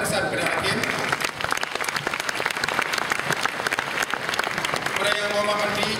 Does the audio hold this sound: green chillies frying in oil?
no